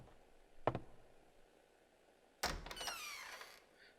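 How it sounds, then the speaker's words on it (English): In the video game Spirit Hunter: NG, a door opens with a quiet latch click, then after a pause a louder sliding, rattling swing that fades out. "I open the door."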